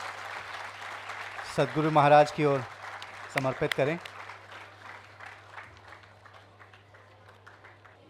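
At a business and leadership conclave, someone speaks briefly over a microphone, then scattered audience clapping follows, moderately loud at first and gradually tapering off under a steady electrical hum.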